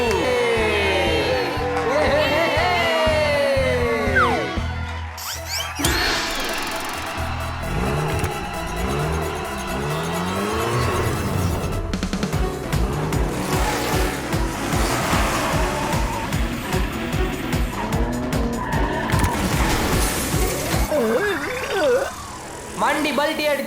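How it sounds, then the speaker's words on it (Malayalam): A cartoon race car screeches through a skid and tumbles over during a kids' animated racing contest, with engine whine, squealing tyres and clattering crash noises mixed with music and effects. "വണ്ടി ബൾട്ടി അടിച്ചു"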